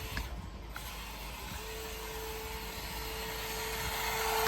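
UDIRC UCX1801 scale RC trail truck running at full throttle in low gear, giving a steady high motor whine with a thin tone that holds and slowly builds in loudness, with no talking.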